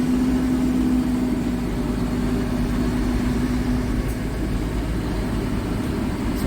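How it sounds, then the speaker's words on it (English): Loud, continuous engine rumble of trucks close by, a steady low drone with a humming tone that fades partway through, no talk over it. "then you got both these trucks loud as hell"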